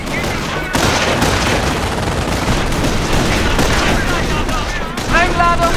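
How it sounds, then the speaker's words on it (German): Rifle and machine-gun fire in the Company of Heroes Normandy invasion mission, a dense continuous fusillade of rapid shots with booms layered in, loud and unbroken throughout. "Wir liegen unter Gewehrbeschuss."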